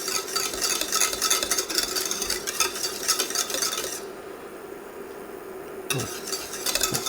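An exotic fruit confit mixture comes to a boil in a saucepan on an induction hob, giving a loud bubbling sizzle with stirring scrapes that pauses briefly before resuming.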